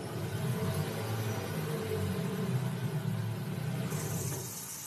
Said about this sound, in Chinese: 混动和多个不同的增程器发动机在冷启动的声音。